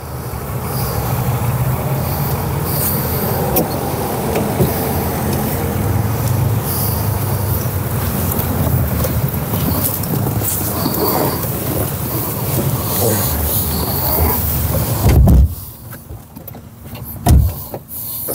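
A BMW Z3 Coupé with a 2.8-litre six-cylinder engine on a road test, a steady broadband drone of engine and road noise filling the cabin for about fifteen seconds before dropping off abruptly to near quiet with a couple of thumps.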